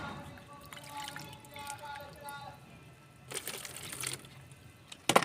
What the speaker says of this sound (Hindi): इसमें डालते हैं हम पानी